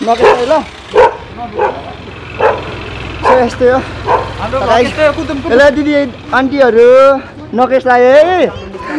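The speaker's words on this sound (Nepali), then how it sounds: "कुकुर त डेन्जर भुक्दैछ ल" Dogs bark repeatedly in a residential neighbourhood block, the barks mixed into near, continuous chatter and greetings from people walking by.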